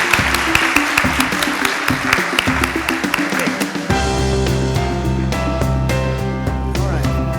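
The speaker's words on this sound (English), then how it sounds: "a big round of applause" Audience applause at a business conference on platforms in Bangkok, greeting a speaker: dense clapping for about four seconds that then gives way to a steadier sustained sound with a few sharp claps.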